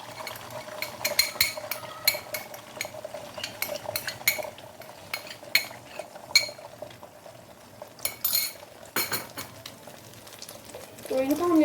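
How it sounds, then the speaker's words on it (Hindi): Beaten eggs fry in hot ghee in a pan over a medium flame, a soft steady sizzle running beneath repeated clinks and scrapes of a utensil against the pan. "तो इनको हमने अच्छे से फ्राई करना है, ये अच्छा सा पल्पी सा फ्राई हो जाए।"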